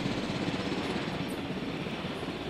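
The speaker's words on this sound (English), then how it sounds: "Pilot helicopter." Helicopter in the Jurassic World Evolution video game, a steady dense rotor and engine roar that holds unbroken and fairly loud throughout, with no voices.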